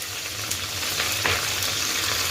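Spices sizzle in oil and ghee for jackfruit biryani, a brief close crackling fry with light stirring scrapes, no voices.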